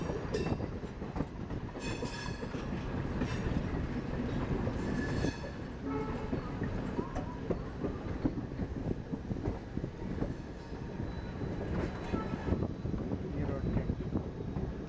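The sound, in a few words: electric multiple unit train passing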